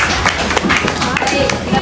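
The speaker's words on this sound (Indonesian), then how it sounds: "tepuk tangan untuk Hafiz." Fifth-grade elementary school classmates clap for a student in the classroom, a short burst of brisk, loud hand claps layered with children's voices and chatter.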